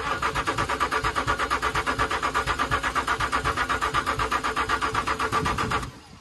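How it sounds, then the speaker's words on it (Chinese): An abandoned Range Rover's engine cranks steadily with a fast, even starter rhythm for about six seconds, never catching despite a replaced fuel pump and starting fluid, then cuts off abruptly. "但车子没能发动，启动液都用上了，可还是不行，发动机愣是没能运行起来"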